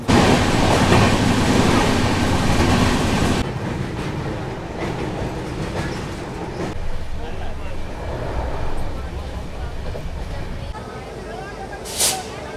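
The Jallianwala Bagh Express from Jalandhar toward Delhi runs at about 126 km/h, heard from inside as a loud roar that drops to a steady rumble with rhythmic clatter, and a voice talks over it.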